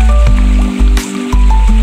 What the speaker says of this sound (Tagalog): Tapos yung tubig na to galing po dun sa Nagulo Falls.